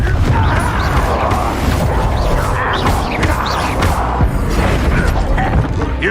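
Confringo fire spell blasting during combat in Hogwarts Legacy, a loud, dense burst of booming, crashing impacts that stays busy throughout, with no quiet gaps between the hits.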